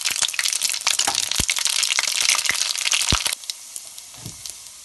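Mustard seeds, fennel and fenugreek hit hot oil for a chicken curry with bell peppers, giving loud, close crackling and popping with sharp seed bursts before the sizzle suddenly drops to a quieter hiss.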